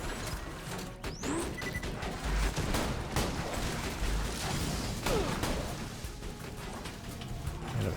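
Assault rifle fire from Borderlands 2 rattling through a dense, continuous stretch of shots and impacts, a chaotic loud battle with whooshes and crashes mixed in, no talking.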